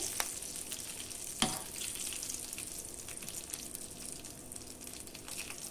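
Curry leaves frying in hot oil for a tempering, a soft, steady crackling sizzle with one sharp pop early on, quiet and close with no talking.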